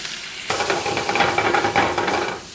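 Pork for menudo drops into a hot pan and starts sizzling loudly, a steady crackling fry with some stirring that carries on for about two seconds before easing off.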